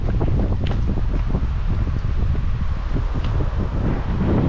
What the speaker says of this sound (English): It's very windy today, you may have noticed